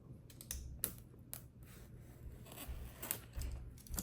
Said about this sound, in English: I got the X-Acto... I don't even know if this is X-Acto blade, but we're just opening this up real, precise